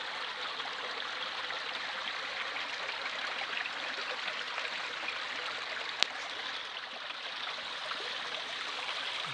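A small stream runs over stone, a steady close rushing and trickling of water with one brief click midway and no voices.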